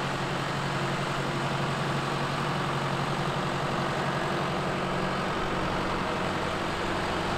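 A tractor engine runs steadily with a low, droning rumble, close and constant throughout, on an organic farm in the Netherlands.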